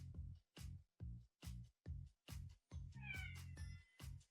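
A cat meows repeatedly in a video game, about nine loud, evenly spaced meows close up, with a brief higher chirping sound overlapping near the end and no talking.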